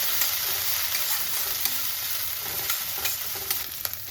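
Ginger and green chilies fry in oil with cumin seeds while a utensil stirs them, a steady sizzle broken by light clicks and scrapes against the pan, no voices.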